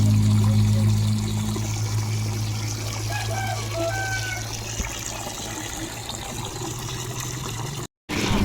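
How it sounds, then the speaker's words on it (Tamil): Tap water runs and pours steadily for several seconds while clothes are rinsed, with splashing and trickling, a low hum under it, briefly cutting out near the end. "இது மாதிரி தண்ணி திறந்து விட்டு துணி அலசுறதுக்கு பிடிக்கும்னு சொல்லுங்கள்"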